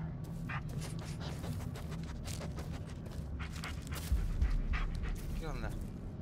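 A dog pants in the Blair Witch video game, rapid breathy puffs under continuous talk from a player, with faint whimpers and some game noise mixed in.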